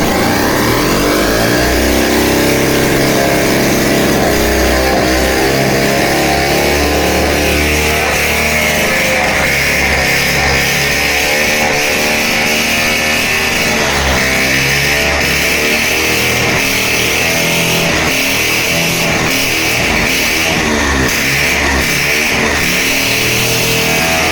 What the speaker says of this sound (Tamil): ஒரு 4-5 திருவிழா பார்த்தீங்கன்னா வண்டி ஸ்டார்ட் ஆயிடுச்சு